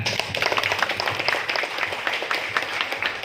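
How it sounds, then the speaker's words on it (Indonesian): Steady applause from an audience at a talk on debt and interest, a continuous moderate wash of clapping with no pauses. "tepuk tangan silakan."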